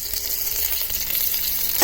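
Mustard seeds crackling and sizzling in hot oil for a tadka tempering, a loud, steady close-up hiss with fine popping throughout and no voices.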